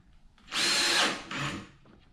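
A power drill runs during a DIY workshop build of a bench grinder stand, two close bursts about a second long with a brief slowdown between them, no voices.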